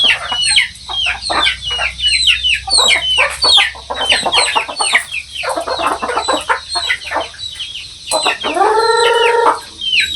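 Chickens on a farm during feeding, dense overlapping clucks and squawks close by, with a rooster crowing near the end.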